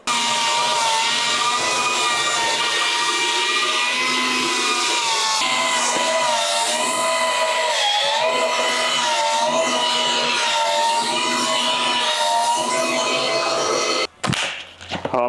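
A sander grinds steadily across a plaster ceiling, a loud, continuous whirring rasp with slight wavering pitch that runs almost unbroken before cutting off abruptly near the end.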